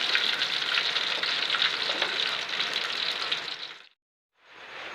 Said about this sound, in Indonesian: Goreng tahunya juga nggak usah lama-lama teman-teman.